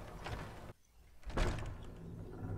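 A door in the Companions game slides open with a heavy mechanical rush, a brief quiet gap, then a louder thunking swell as it moves, faint and close with no talking.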